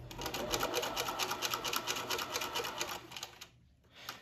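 Sewing machine running steadily as it stitches a separate elastic waistband, a fast even rattle up close that pauses near the end and then starts again.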